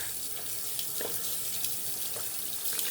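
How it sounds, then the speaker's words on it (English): Tap water runs steadily into a sink while a face is rinsed after a shave, a close continuous splash with small irregular splatters. "Gonna rinse off my face, then apply the aftershave."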